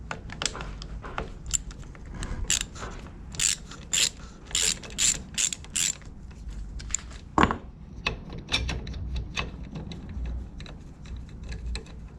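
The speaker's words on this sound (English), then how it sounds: "I'm gonna use my screwdriver attachment in this to make it a little faster." A screwdriver attachment on a drill drives screws in a run of short whirring and clicking bursts with small mechanical rattles between them, close and moderately loud with no talking.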